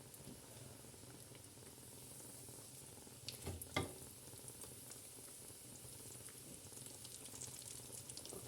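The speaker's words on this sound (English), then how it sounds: "So we have to fry all our krapfen like this." Potato krapfen fry in hot oil with a faint, steady sizzle and bubbling, broken by a brief clatter of utensils midway.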